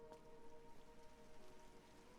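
Steady rainfall in the video game Trails through Daybreak, a continuous soft hiss of drops patters evenly throughout, with faint tonal game ambience humming underneath and no voices.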